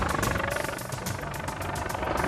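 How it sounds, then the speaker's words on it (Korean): A rescue helicopter from a mountain rescue team arrives at a hillside landing site, its steady rotor thrum and engine roar filling the air continuously and fairly close. "헬기 들어옵니다."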